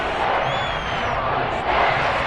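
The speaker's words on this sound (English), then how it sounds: "The crowd getting into it as we come up on a big third down." Stadium crowd in a Madden football video game roars steadily throughout, a dense continuous wall of cheering that swells slightly near the end, with no voices speaking over it.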